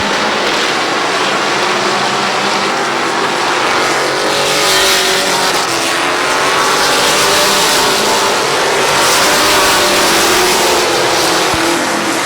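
Street stock race cars roaring around Midvale Speedway, a loud sustained engine drone from several cars blending and swelling as they circle the track, with no voices over it.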